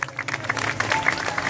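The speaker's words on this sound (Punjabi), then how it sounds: "ਤਾੜੀ ਮਾਰ ਦੇਣੀ ਚਾਹੀਦੀ, ਮਾਰੋ ਜ਼ੋਰ ਤਾੜੀ ਜ਼ੋਰ।" A live audience at a Master Saleem stage show at Dera Baba Gurmukh Das Ji claps in a brief, scattered patter, with a few murmuring voices underneath.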